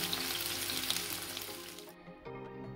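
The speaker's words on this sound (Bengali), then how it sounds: "এইভাবে উল্টে পাল্টে আমি কিছুক্ষণ ভাজবো, যতক্ষণ না লাল হচ্ছে" Chicken kathi kabab sizzles in a pan while being turned, with a loud, continuous hiss that cuts off abruptly near the end and leaves a faint low hum.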